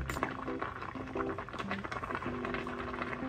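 Spaghetti boiling in salted water, faint bubbling and soft liquid patter from the pot, with a few brief tonal hums over it.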